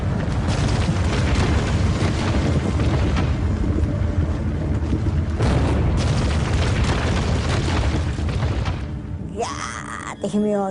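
The Fat Man atomic bomb blast over Nagasaki, dramatized as a loud, continuous, rumbling roar with surging bursts for about nine seconds, then thinning into a rising wailing tone at the end.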